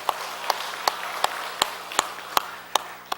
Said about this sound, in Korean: 다시 한번 하나님께 감사의 박수 올려드립니다.